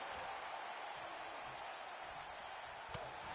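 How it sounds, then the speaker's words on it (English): Crowd noise from a WWE 2K25 wrestling match, a steady broad roar of cheering in a virtual arena, continuous and fairly faint with one brief sharp hit near the end. "Listen to this crowd."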